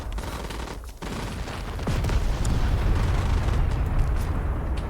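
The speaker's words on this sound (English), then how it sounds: "when they fire, it's a big explosion" Grad rocket launcher volley firing and exploding in the Call to Arms video game: a dense, continuous roar of rocket launches and blasts, loud and sustained with a rumbling low end that swells midway and stays heavy.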